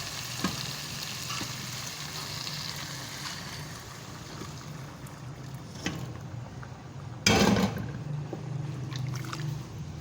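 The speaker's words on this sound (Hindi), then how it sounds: "अब इसके अंदर उबलता हुआ पानी डालेंगे।" Steady sizzling and frying in a pan of black chickpea curry, broken by a sudden loud hissing burst as boiling water is poured in, then the sizzle carries on.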